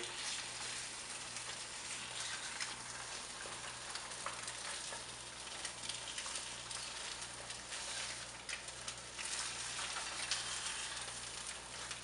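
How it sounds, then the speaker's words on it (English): Eggs frying in a pan for a low-carb breakfast, a steady broadband sizzle and crackle holding at an even level throughout with no voices. "So eggs are cooking here."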